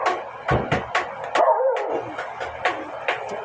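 A pet dog barks and yips repeatedly at a home in the early evening. The sharp barks come in a loose, uneven series, loud and close, with no talk over them.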